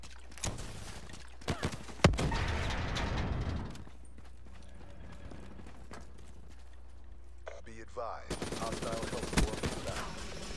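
Gunfire in a Call of Duty hardcore team deathmatch game comes as a few sharp shots and a rapid burst of fire, followed by mechanical clatter and a loud stretch near the end, with a voice talking over it.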